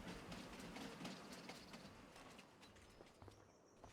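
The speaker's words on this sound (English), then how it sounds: "It's a steam train!" A steam train in the Farming Simulator game rolls past through a cutting on a Scottish map, a steady rumbling, clattering rush of wheels and rails that stays fairly loud and close throughout.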